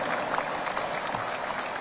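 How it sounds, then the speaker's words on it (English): Applause for a national anthem singer at a military change of command ceremony, a steady dense wash of clapping from a crowd that holds even and moderately loud throughout. "A round of applause, please, for that incredible"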